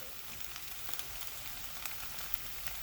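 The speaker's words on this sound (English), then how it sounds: "So what I'm going to do now, I'm going to dump the sauce in here" Marinara sauce with chopped tomato bubbling in a hot pan, a steady, soft hiss of sizzling dotted with faint pops, heard close and without talking.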